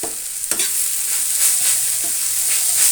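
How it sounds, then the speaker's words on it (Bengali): Banana flower curry with fenugreek being stirred in a frying pan: a steady bright sizzle with a few scraping spoon strokes, continuous and close, with no voices. "দেখুন, আমি এটাকে একটু ঘেটে দিচ্ছি।"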